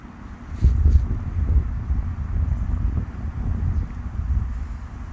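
Wind blows through an autumn park in Cheonan, South Korea, where leaves are falling, producing a steady low rumble with gusts against the microphone that swell near the start and hold throughout, with no talk.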